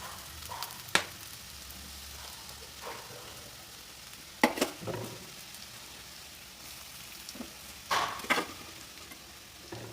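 Ginger and raw mango sautéing in sesame oil in a pan: a soft, steady sizzle with a few sharper spatter pops and scraping stirs now and then.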